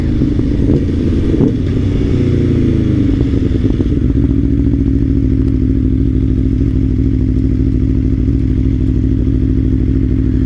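An Aprilia Tuono V4 Factory motorcycle is ridden, giving a loud, close, continuous engine drone with a brief clattering rise early on before settling into a steady run.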